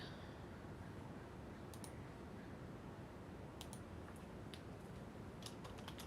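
Someone types on a computer keyboard, producing scattered soft key clicks in brief bursts over a steady broadband hiss, faint and close.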